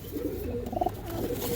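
Andhra line racing pigeons coo softly and close by, a low throaty murmur running steadily through the short span with a few slightly brighter notes near the middle.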